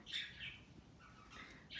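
Budgies chirp and squawk faintly in short bursts, a few calls spread over two seconds against a quiet background.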